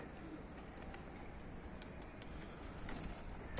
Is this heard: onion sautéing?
no